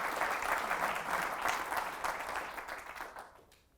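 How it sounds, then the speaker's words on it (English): An audience at a finance panel discussion bursts into dense, sustained applause that tapers off toward the end. "Ladies and gentlemen, a round of applause for the panel"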